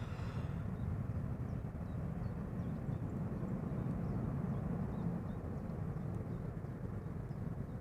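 Steady broadband roar of a Boeing 787 Dreamliner jet at Amsterdam Schiphol, loud and continuous throughout with no speech, holding at an even level.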